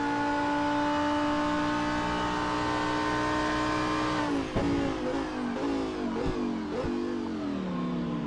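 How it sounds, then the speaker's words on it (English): Onboard a number 42 Lamborghini Super Trofeo race car at Detroit, the engine holds a loud steady high-revving drone, then downshifts with sharp bursts and pops through a series of gear changes. "Now on board with Karl Struhl driving the number 42 Lamborghini STC."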